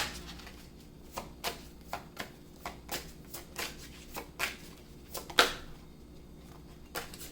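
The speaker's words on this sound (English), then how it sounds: "May I have some cards, please?" Tarot cards are shuffled by hand in a quiet room, producing a string of soft, crisp riffles and snaps in an uneven rhythm, close up and with no talking.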